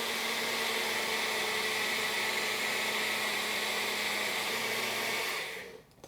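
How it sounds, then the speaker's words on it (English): A blender blitzes creme anglaise mixture with vanilla in a steady, loud whir lasting about five seconds, then cuts off abruptly, with no talking over it. "we're gonna just give it a quick blitz to mix it all around"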